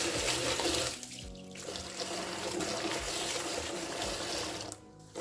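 Ofada rice rinsed under a running tap, with steady, loud water splashing and rushing through the grains in a sink for several seconds, briefly dipping once, and nobody speaking.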